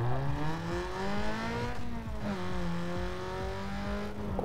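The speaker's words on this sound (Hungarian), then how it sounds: "Imádom az ilyen japán autóknak hangját. Főleg a sport kipufogóval." Japanese sports car with a sport exhaust revving in Need for Speed Underground 2, a loud, steady engine drone that climbs in pitch, dips around the two-second mark, then rises again, with no talking over it.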